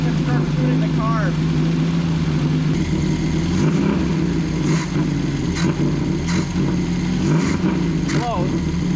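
A Saab Sonett engine runs unevenly while warming up, a loud, continuous rumble with a wavering, rough idle close by, while a voice talks over it now and then.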